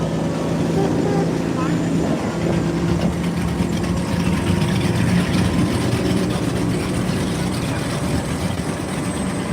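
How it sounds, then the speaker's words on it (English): A boat engine drones steadily at a loud, constant level with low rumble off San Diego, and people talk faintly over it. "I don't know how fast that boat goes, but it sounds fast."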